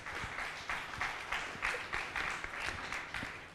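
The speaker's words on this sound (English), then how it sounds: "let us give a big round of applause to all the panelists" Applause from a conference audience for a panel of speakers on wireless communication at Convergence India 2018, a steady, fairly distant wash of many hands clapping for a few seconds.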